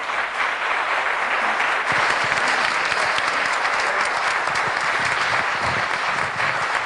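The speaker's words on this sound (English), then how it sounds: "Another round of applause for our speaker tonight." An audience at a 2009 Clinton School lecture applauds the speaker, giving dense, sustained clapping from a full room that continues evenly for about seven seconds.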